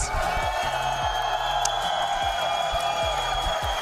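A large crowd at an Apex Legends esports playoff watch party cheers and whoops continuously, a dense roar with scattered shouts rising over steady low rumbling.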